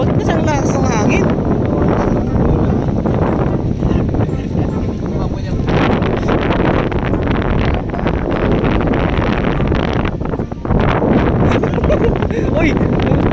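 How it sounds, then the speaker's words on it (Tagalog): Strong wind at a beach campsite on Keelong Beach roars and buffets the microphone continuously, nearly drowning everything else, while people speak faintly beneath the gusts. "Ba't ka siyang lakas ng hangin?"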